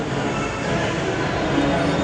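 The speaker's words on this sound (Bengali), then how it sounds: "আমাদের পরের মেট্রোটাই আসছে" A metro train runs at a station platform, a steady dense rumble and rush of wheels that stays even and fairly loud throughout, with faint voices in the background.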